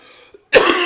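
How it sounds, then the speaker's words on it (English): A man gives a single short, sharp cough, close and fairly loud, after a brief quiet moment. "I'm coughing."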